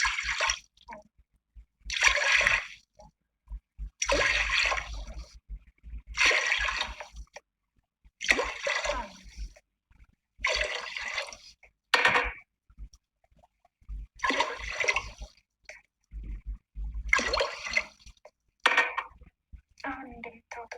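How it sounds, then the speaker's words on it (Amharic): Water poured glass by glass into a cooking pot, about eight separate splashing pours in a steady rhythm with short pauses between, close and fairly loud. "አሁን እንደምታዩት እንግዲህ 8 ብርጭቆ ውሃ ጨምሬያለሁ ማለት ነው።"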